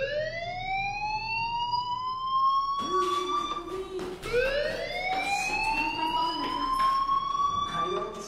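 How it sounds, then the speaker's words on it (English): A fire alarm in the video game Life is Strange, repeated rising electronic whoops sweeping upward in pitch, loud and continuous, with a voice speaking underneath. "Hey, do you hear that fire alarm?"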